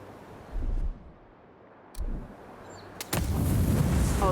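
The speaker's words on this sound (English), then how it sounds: "Oh, that's a grenade." Grenade blast in the video game Avowed: a loud, broad burst erupts and then sustains as a roaring rumble, following earlier short thuds and hiss.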